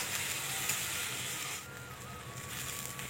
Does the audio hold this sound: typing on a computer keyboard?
no